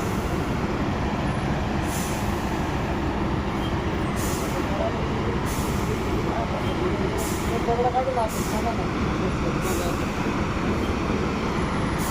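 Vehicle drives on a rain-soaked mountain road toward Kedarnath, a steady loud engine and road rumble throughout with rhythmic bursts of noise recurring every second or two, and faint voices underneath.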